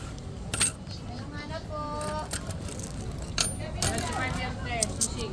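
Coins clinking and dropping as loose change is handed over, several light metallic jingles and clatters scattered across the clip, fairly quiet, under a low background murmur and occasional voices.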